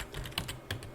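Node.js code being typed on a computer keyboard, a quick burst of several close, crisp key clicks within about a second, fairly quiet.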